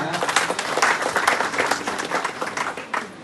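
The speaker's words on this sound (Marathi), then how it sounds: "एक जोरदार टाळ्या" Enthusiastic audience applause fills the hall at a cooperative bank's award ceremony, a loud, continuous wash of many hands clapping that swells in the middle and tapers slightly toward the end.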